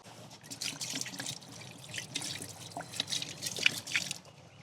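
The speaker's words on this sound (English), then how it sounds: "Let's pour some water in it." Water poured into a leaking container outdoors, a soft steady trickle with scattered drips, faint and close, with no talk.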